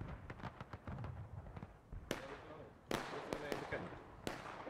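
Scattered musket fire in the War of Rights game at Burnside's Bridge, irregular individual shots cracking at varying distances rather than one massed volley, with a voice speaking between them.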